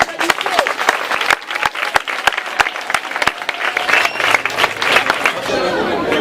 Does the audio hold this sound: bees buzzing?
no